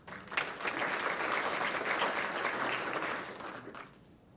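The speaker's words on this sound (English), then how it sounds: "they're hearing our applause." An audience applauds at the dedication ceremony of a veterinary medicine education building at Oklahoma State University, a sustained, full round of clapping that swells quickly and fades after about four seconds.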